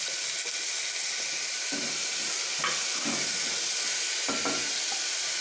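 Green chillies fry in a pan with a continuous sizzle and hiss. A few soft stirring knocks sound near the middle and end, and no one talks.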